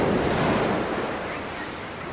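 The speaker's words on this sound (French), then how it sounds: "maman sait que j'adore le bruit des vagues" Ocean waves roll onto a beach, a broad continuous wash of surf swelling then slowly easing, with wind rushing over the microphone and no voices.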